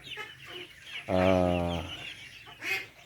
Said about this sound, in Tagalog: yan po yung mga itik na yun nandiyan na nakikita niyo guys